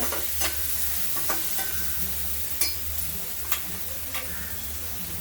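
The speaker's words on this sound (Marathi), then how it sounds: "छान परतून घेऊ हळदीला." Turmeric stirred and fried with softened tomatoes in a pan, a continuous low sizzle broken by sharp clicks and scrapes of the spoon against the pan at irregular intervals, close and clear with no talk.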